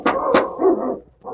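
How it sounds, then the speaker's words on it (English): Two mastiffs barking close by, a pair of deep, loud barks in quick succession followed by a shorter third bark, with no talking over them. "She got the door with dogs. Mastiffs. 2 of them."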